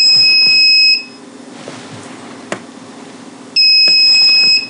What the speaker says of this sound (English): you're greeted with this nice, loud beep